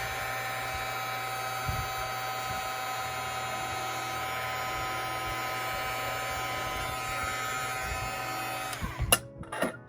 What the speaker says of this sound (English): And I'm going to take my heat gun